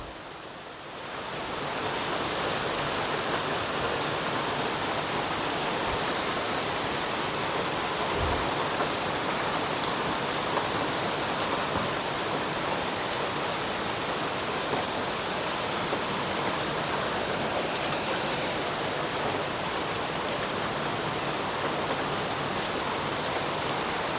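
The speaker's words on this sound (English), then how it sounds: "It's raining nice and heavy now." Heavy rain pours down outdoors over a potted pothos plant, a dense, steady roaring hiss that stays constant and loud throughout with no talking.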